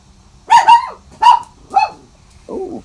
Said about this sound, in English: Oh, good timing, dogs.